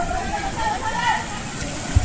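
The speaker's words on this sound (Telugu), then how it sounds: "పైనుంచి వాటర్ ఫ్లో హెవీగా వస్తుంది" Water pours down in a steady, heavy rush at an amusement park, a continuous broad roar with faint voices under it.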